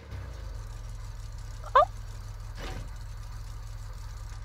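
A car engine idles in GTA 5, a steady low mid-pitched hum running throughout, broken by a brief sharp chirp and a faint thump partway through.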